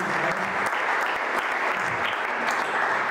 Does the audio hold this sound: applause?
yes